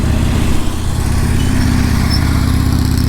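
A Harley motorcycle engine runs at low RPM, around 1200 to 1500, on a practice course. It gives a loud, steady, close rumble with an even low throb for the whole stretch.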